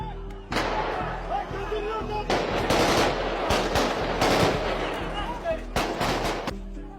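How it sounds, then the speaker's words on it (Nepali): Police open fire on protesters in Nepal: rapid bursts of gunfire crack repeatedly, loud and echoing, mixed with crowd noise and shouting across the street. "प्रहरीले उनीहरूलाई ताकेर गोली बर्साउँछ।"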